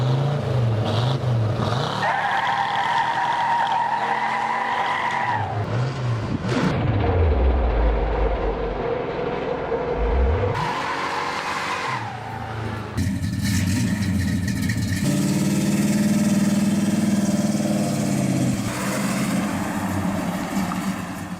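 A 1969 Pontiac GTO muscle car engine roars and revs, with vehicles sweeping past in surging pass-bys that rise and fall in pitch, loud and close, separated by brief quieter gaps.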